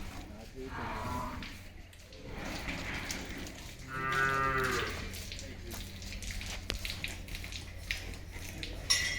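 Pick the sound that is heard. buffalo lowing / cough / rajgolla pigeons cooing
buffalo lowing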